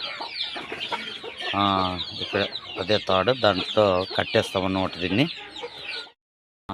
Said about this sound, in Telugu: ఈ పిల్లలు కూడా అరుస్తుండయి